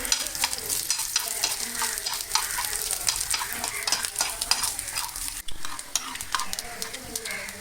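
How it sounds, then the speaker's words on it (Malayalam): Cashew nuts frying in a pan for payasam, a bright continuous sizzle with quick repeated stirring scrapes of a spoon, loud and close, with no voices over it. "ഞാൻ നല്ലോണം ഇളക്കി കൊടുക്കും"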